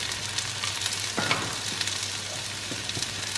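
Onions sizzle and fry steadily in a hot pan for a caramelized onion quiche. Soft stirring scrapes sound now and then over the constant crackle, with no voices.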